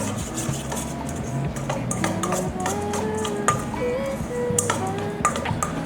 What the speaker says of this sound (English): And I'm just going to go ahead and give that a mix with my spoon.